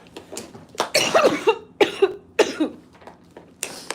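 A series of harsh, wet coughs in close succession, loud and near, with brief pauses and quieter breaths between bursts.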